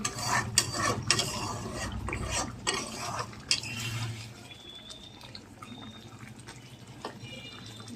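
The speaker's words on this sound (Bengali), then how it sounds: "আর একটু ঝোলটাকে টানাবো, একটু ফুটে নিক" Pabda fish curry gravy simmers and bubbles in a pan, with soft popping and sizzling under intermittent clinks of a utensil against the pan.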